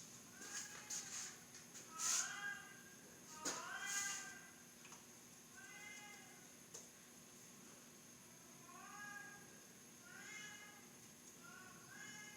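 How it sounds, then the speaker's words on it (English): A cat meows repeatedly in the background of a workshop with a CNC mill. There are about eight separate drawn-out calls, some closer together than others, fairly faint against a low steady hum. "Can you guys hear the cat in the background?"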